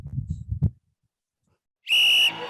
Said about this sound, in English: The whistle has been blown for full time.